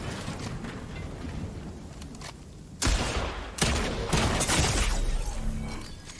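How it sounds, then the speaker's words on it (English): Pistol gunfire in the Fortnite video game, several loud sharp bursts of shots starting about halfway through over a busy background of game sounds and music. "I'm getting shot by 5 pistols"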